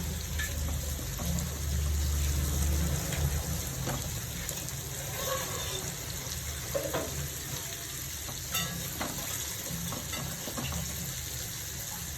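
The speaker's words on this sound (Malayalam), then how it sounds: "കൊഞ്ച് പരട്ടി വെച്ചതൊന്ന് വറുത്തെടുക്കാം ഷാലോ ഫ്രൈ ചെയ്യാം കുറച്ച് വെളിച്ചെണ്ണ ഒഴിച്ചിട്ടുണ്ട്" Marinated prawns shallow-fry in coconut oil with a steady, close sizzle and crackle, broken by a few soft stirring clinks.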